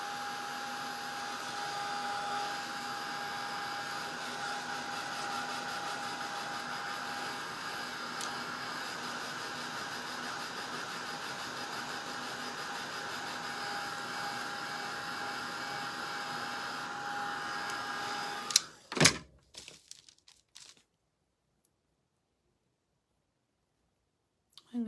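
A handheld heat tool blows a steady whirring, hissing roar while drying painted craft pieces, running close and unbroken for about eighteen seconds before clicking off into near silence.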